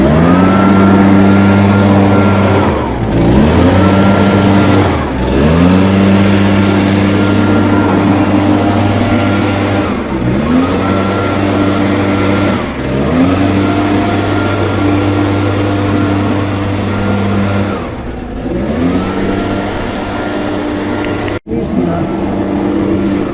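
A Mercury 2.5L Optimax outboard motor runs steadily during a service test, a loud, close, sustained drone whose pitch rises and falls a few times, with a sharp click near the end.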